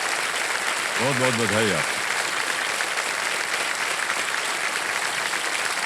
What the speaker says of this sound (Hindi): तालियां बज जाए सुमित जी के लिए